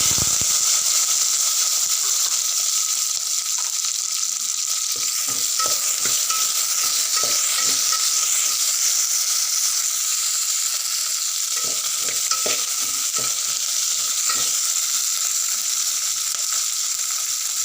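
Cut green chilies frying in oil in a pan for tomato coriander chutney, a constant loud hissing sizzle with intermittent stirring taps and scrapes, no talking.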